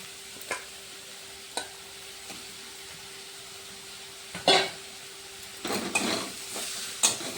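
Tomatoes go into a frying pan of spices and turmeric: a soft sizzle runs throughout, with occasional utensil taps and clinks and a louder burst of sizzling and stirring late on.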